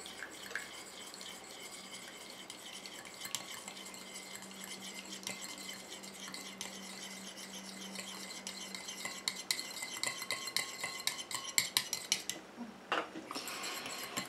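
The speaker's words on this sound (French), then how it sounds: "Je continue à mélanger comme ça jusqu'à ce que mon émulsion épaississe et refroidisse" Oil and water phases of a skin-lightening cosmetic cream being mixed in a small container, a quiet, continuous rapid scraping and clinking of a utensil stirring, growing slightly louder and more irregular toward the end.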